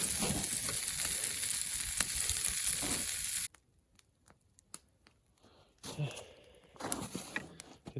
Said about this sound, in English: Get some butter melting in there and throw our bread in there in a second